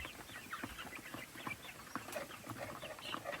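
Rhode Island Red parent stock breeder chickens, 57 days old, clucking and peeping in a quiet pen, with scattered soft calls and faint rustling and no talk.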